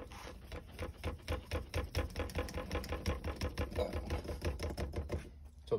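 A suction cup is pumped down onto the windshield of a 2007 Ford Expedition during installation, giving a close, rhythmic series of quick mechanical pumping pulses that repeat steadily for several seconds before stopping.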